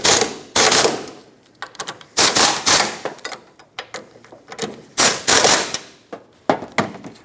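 A socket wrench ratchets loud and close in quick, uneven bursts while it snugs up the 12mm strut mounting nuts on a 2008–2012 Honda Accord front strut and spring assembly, with short pauses between the strokes.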